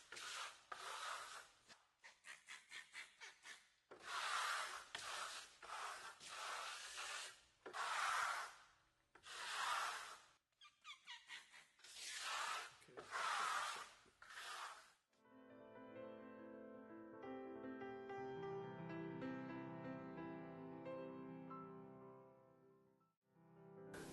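A stainless steel trowel rubs Tobias Green plaster texture smooth across an interior wall in repeated rhythmic strokes, with each scraping pass separated by short pauses, followed by a longer stretch of softer, sustained tonal sound.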